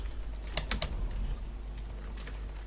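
Keystrokes on a computer keyboard during Fortnite play, a quick cluster of sharp clicks near the start followed by sparser, fainter taps over a steady low background hum.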